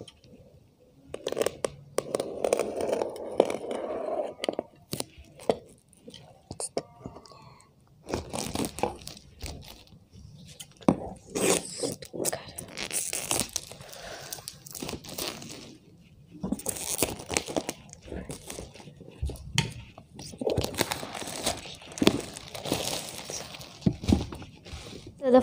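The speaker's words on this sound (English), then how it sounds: "So I'm going to be using my paper cutter. So let's open it." A paper cutter slices open a cardboard box holding a DIY working solar system kit, heard as close scraping, crunching and crinkling bursts separated by pauses.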